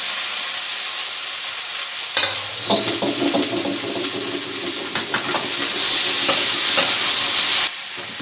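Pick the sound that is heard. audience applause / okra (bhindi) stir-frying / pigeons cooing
okra (bhindi) stir-frying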